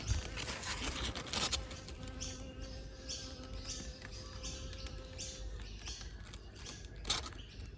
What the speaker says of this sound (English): we've got a beautiful bee